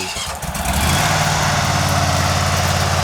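A cordless electric grass trimmer powers up after a brief rustle and then runs at a steady, loud motor whine with a low droning hum, close by and continuous, with no talking.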